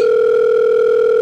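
Video call ringing tone from the Poppy Playtime video game, a steady sustained electronic dial-like tone, loud and alone, ending abruptly with a short rising blip.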